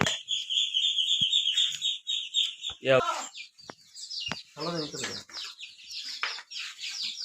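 Chickens clucking and chirping close by at a small farm, a series of short calls and squawks over several seconds, with no talk.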